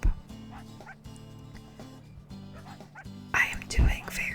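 Small cartoon dogs yip and bark in the American Girl online dog-walking game, with repeated short yelps and whimpers over light game music and a soft voice talking.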